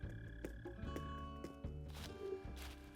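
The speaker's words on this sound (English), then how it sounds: "I apologize for the mole cricket sounds." Mole cricket in the Animal Crossing video game, a low buzzing chirr with rhythmic pulses over soft background game music.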